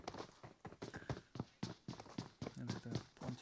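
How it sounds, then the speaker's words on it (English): Enemy footsteps in the battle royale game PUBG, a run of regular thumping steps with a clip-clop rhythm, fairly close, with some talk mixed in. "can hear his footstep."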